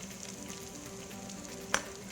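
Chicken gizzards fry quietly in a pan, a soft, even sizzle throughout, with one brief metallic clink near the end.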